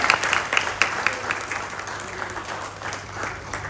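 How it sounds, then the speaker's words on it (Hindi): Audience applause at a stage event for a devotional VR temple experience, with scattered, uneven claps that are a little louder at the start and thin out toward the end. "आपकी तालियों की आवाज में कोई बात नहीं है"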